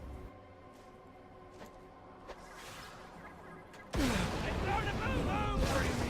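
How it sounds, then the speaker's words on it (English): Grenade explosions in the video game Borderlands: The Pre-Sequel: after a few light knocks, a loud close blast erupts and rumbles on into a dense, roaring wash of debris and echo, with someone talking throughout. "let's throw some grenades at them"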